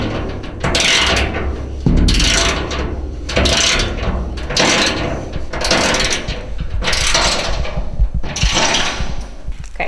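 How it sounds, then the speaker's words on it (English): A socket wrench ratchets steadily, tightening bolts with flat and split washers on a Boonedox Rod Pro metal rod locker, in repeated close bursts of rapid clicking separated by brief pauses. "now we're gonna tighten everything down"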